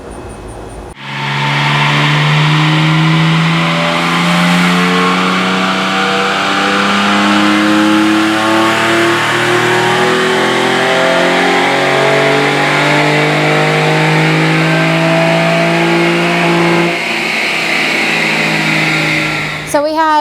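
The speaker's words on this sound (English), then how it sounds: "Today we're dynoing a 2019 Chevy Colorado" A supercharged 2019 Chevy Colorado RST with a Magnuson supercharger revs hard on a chassis dyno, a loud, sustained engine roar rising and holding for nearly twenty seconds before cutting off.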